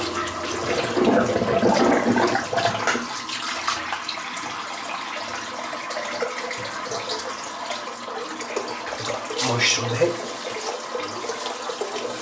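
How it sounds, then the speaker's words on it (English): Water from a sink full of shaved hair after a head shave drains and gurgles, louder at first and then settling into a steady trickle and wash, with no talk over it. "I'm just going to empty the sink out, so there's a fair bit of hair in there"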